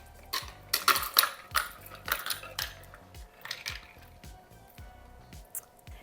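A hurricane cocktail is free poured over crushed ice, with liquid trickling and splashing into the glass among clinks and crackles of ice, loud and close at the start and thinning to scattered drips.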